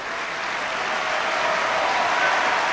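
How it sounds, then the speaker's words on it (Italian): An opera house audience applauds a performance of Bellini's I Puritani with steady, dense clapping that stays full and even from start to finish, with no voices over it. "You can judge, I suppose, by the warmth of that applause"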